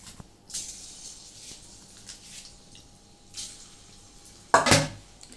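Marinated chicken pakoras drop into hot frying oil one at a time in a home kitchen, each with a soft hissing sizzle, ending in a sharper, louder splash and crackle near the close.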